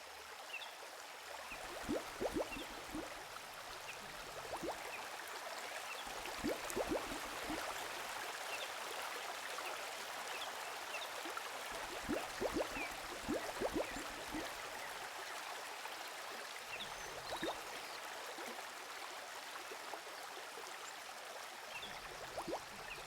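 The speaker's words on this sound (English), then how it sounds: "Can you hear the sound of bubbles?" River water rushes steadily, with gurgling and bubbling bursts rising now and then over the continuous flow. It sounds close and fairly full.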